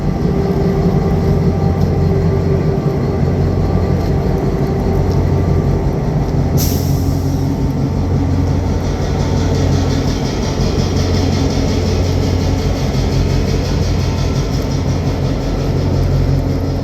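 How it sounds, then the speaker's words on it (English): A train pulling out rumbles steadily nearby at The Pas or Cranberry Portage, with low mechanical drone and a brief hiss of air brakes partway through. "it looks like there's a train pulling out"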